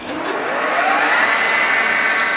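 A 37-inch AEM wet type belt grinder head, model 401-37-HDMW, whirs up, its tone rising steadily as the motor gains speed, loud and close.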